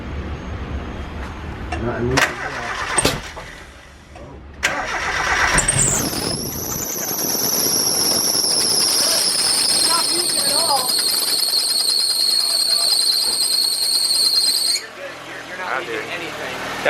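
A turbocharged Mazda Miata engine fitted with a bigger turbo cranks and fires up close by, then idles roughly under a piercing high turbo whine for several seconds before cutting off, with voices nearby.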